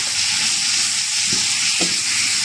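Butter sizzles loudly in a hot pan frying Alexandrian-style liver. The dense, steady hiss is close and continuous, with a couple of faint stirring knocks.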